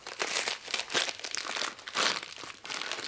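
Plastic or paper wrapping on a package from a parcel crinkles and rustles loudly in repeated bursts as it is pulled open close by, with no voices.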